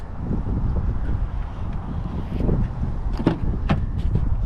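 The hood of a 2023 Subaru Legacy is dropped shut, two sharp metallic thuds near the end following a stretch of breezy outdoor rumble.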